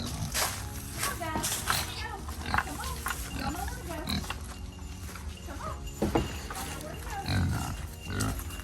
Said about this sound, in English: Let's go, Big Pig.